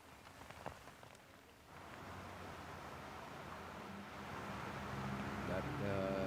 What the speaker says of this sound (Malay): Hujan semakin lebat.